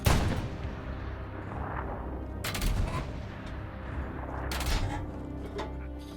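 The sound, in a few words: artillery gun firing in the video game Hell Let Loose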